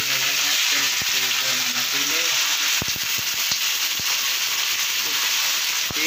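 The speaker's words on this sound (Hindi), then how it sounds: "टिंडे प्याज में जो है डल चुके हैं, ये सब फ्राई होंगे ना प्याज में" Tinda (round gourd) fries in browned onions in a pan with a constant loud hiss and sizzle, marked by a few scraping stirs. It is close up, and no one talks.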